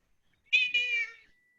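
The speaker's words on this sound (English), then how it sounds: "Adam, this is my cat, Timmy." A tabby cat gives one clear, close meow that breaks briefly and then draws out in a tonal second part, heard in a quiet room with no talking.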